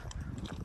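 Horses clip-clop near Hampshire Polo School, a brief faint patter of hooves heard from a distance outdoors on a country walk.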